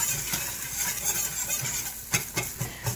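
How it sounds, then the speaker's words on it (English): Finely chopped onion sautes in a pan, giving a soft, steady sizzle broken by quick scrapes and taps of a stirring utensil, close and fairly quiet. "I'm going to add some finely chopped onion. I'm going to saute that for just a minute."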